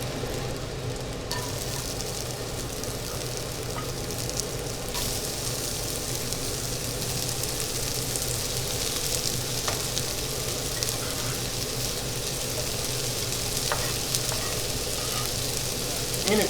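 Red onion and celery fry in a hot stew pot, giving a continuous dense sizzle that holds steady and close throughout, with no voices.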